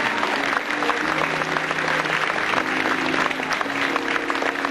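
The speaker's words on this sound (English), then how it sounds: "the guys deserve a very special round of applause for looking so ultra cool" Steady audience applause at a school fashion show, dense close clapping filling the hall throughout, with a faint held music tone beneath and no pauses.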